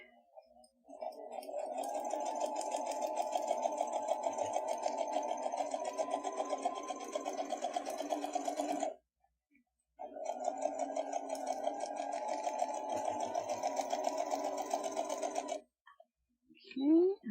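A sewing machine stitches in two long continuous runs, a steady rapid whirring with a brief pause between bursts, close and clear, ending with a short clicking sound.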